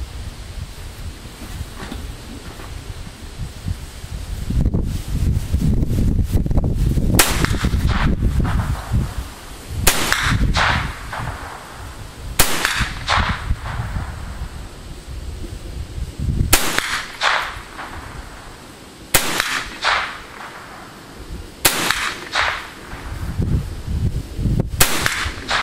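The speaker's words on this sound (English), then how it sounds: "they are fun rifles to shoot" An old .22 long rifle fires outdoors on a windy range: roughly six or seven sharp, distinct cracks spaced a few seconds apart, with wind rumbling in the background.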